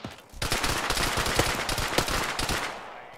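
Rapid, close gunfire in a military shooter game, with dense overlapping shots and sharp cracks sustained for about three seconds after a brief quiet start.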